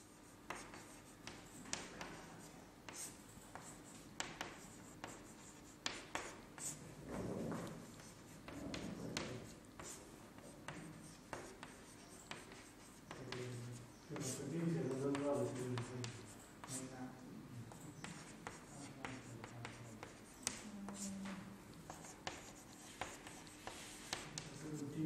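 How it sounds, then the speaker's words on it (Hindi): Chalk or marker writing words on a classroom board, a steady run of scratchy taps and strokes throughout, with a voice speaking quietly underneath at times. "यहां पे मैं कुछ शब्द लिखता हूं,"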